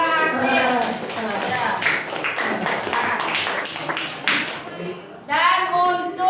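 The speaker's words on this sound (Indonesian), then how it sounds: "tepuk tangan untuk kelompok yang aktif" A classroom group claps in applause for an active group, a burst of rapid, overlapping hand claps in the middle, with voices talking before and after.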